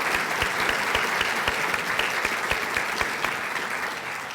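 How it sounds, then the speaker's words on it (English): Audience applause at a chamber of commerce education update event, a dense, steady clapping from a large seated crowd that fills the whole moment and tapers slightly at the end. "Would you please join me in a round of applause for them?"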